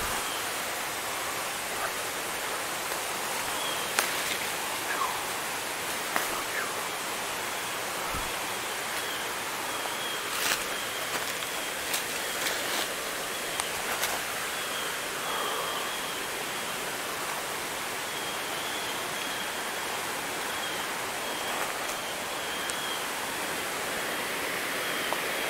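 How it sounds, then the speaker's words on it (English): Steady broadband rush of the waterfall at the top of Upper Moccasin Creek Falls on a hike, a constant loud roar of falling water filling the scene, with a few faint knocks and clicks over it and no talking. "So this should be the top of Upper Moccasin Creek Falls."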